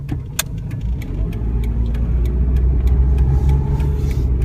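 A 1997 Ford Escort is driven on the road, a steady low engine rumble and road noise from inside the car that rises gradually as it goes through its gear changes.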